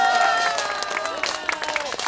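Audience applause at a Korean political speech, a brief burst of crowd clapping and murmuring that fades quickly, heard over a ringing, reverberant hall.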